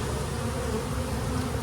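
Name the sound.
honey bees at a hive during a nectar flow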